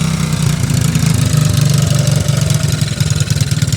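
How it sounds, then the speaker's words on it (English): A 1985 Honda ATC70 three-wheeler's small engine runs steadily up close, a loud, continuous putter with a fast, even pulse and no voices. "Check out this classic Honda ATC70."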